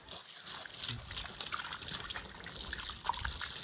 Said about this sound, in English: I will go ahead and wash off my hands